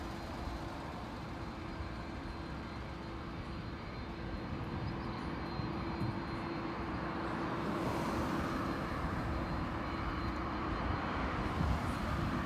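Near Grantley Adams International Airport in Barbados, a steady aircraft engine drones for the whole stretch with a constant hum. The roar swells slightly toward the end, heard outdoors without talking.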